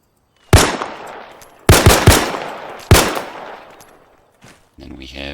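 Three loud, close M1 carbine shots fired in the Arma 3 video game, each sharp crack followed by a ringing decay, then a faint click and a short mechanical rattle at the end.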